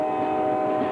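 A commuter train in Los Angeles, steady rumbling rail noise with a sustained horn-like tone running through, close and continuous, no voices.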